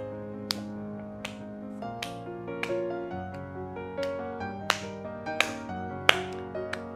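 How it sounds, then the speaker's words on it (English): A few people clap in a slow waltz rhythm during a ballet lesson, single sharp claps spaced about a second apart over sustained piano-like music. "And now just clap with me."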